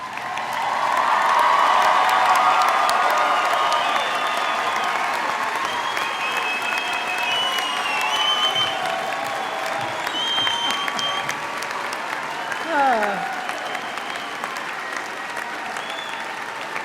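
Long, full applause from a large crowd at a college commencement ceremony honoring the graduates, dense and sustained with scattered whoops and cheers rising above it, fading slightly toward the end.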